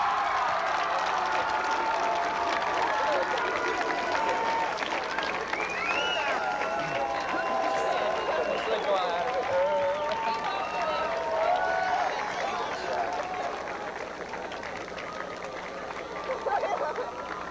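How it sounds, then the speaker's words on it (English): A graduation crowd stands and applauds parents and friends, dense sustained clapping with some cheering filling the hall for many seconds, easing slightly toward the end. "May I suggest that you stand and thank your parents and friends and applaud them."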